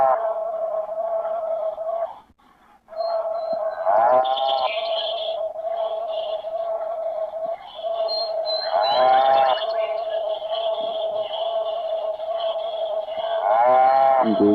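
A cartoon cow moos in long, drawn-out, tonal calls while it eats and is milked. The lowing is loud and close, repeating across the whole stretch with only one brief pause.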